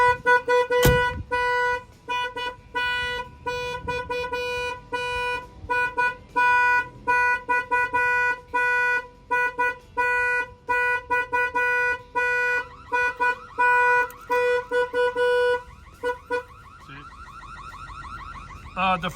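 A semi truck's alarm blares in rapid repeating electronic tones, loud and close, cycling through patterns for a long stretch with brief pauses.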